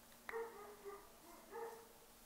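A dog barks outside in two short bursts of high, yelping barks, the first sharply attacked, heard at a modest distance over a steady low background hum.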